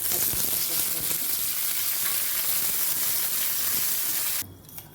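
Cashews and curry leaves sizzle in hot oil in a pan, a loud, dense, continuous crackle and hiss that drops away abruptly near the end.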